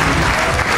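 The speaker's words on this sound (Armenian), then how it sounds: "ծափարենք տղաներին" Studio audience applause for the Armenian Racers Club guests on a television show, a dense, loud burst of many hands clapping together.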